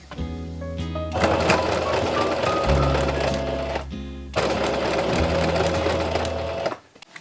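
A sewing machine stitches bias tape onto the edge of thick fabric for a cosplay garment, running loud and close in two long continuous bursts with a short pause between them, with no talk.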